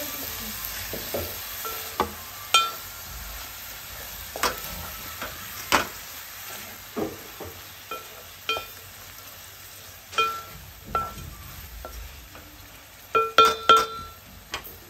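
Dried prawns are stirred with gongura leaves in a frying pan, producing a soft continuous sizzle broken by repeated sharp scrapes and clinks of a utensil against the pan at irregular intervals.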